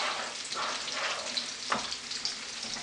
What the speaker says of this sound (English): So just add everything in and give it a stir. Give it a good stir.